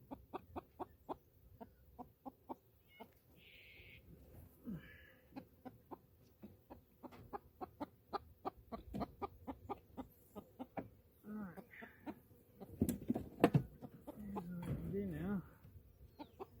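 Chickens cluck near a coop in a steady run of short, rhythmic clucks at close range, joined by a few louder squawks and bursts of rustling, with a person talking briefly.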